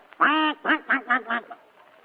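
A voice imitates a duck, giving one long nasal quack followed by four shorter quacks in a quick run, close and clear.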